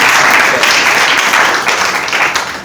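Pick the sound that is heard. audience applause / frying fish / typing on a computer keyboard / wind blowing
audience applause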